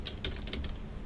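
Rapid clicks of typing on a computer keyboard, an uneven run of soft key taps close by with a low background hum and no speech.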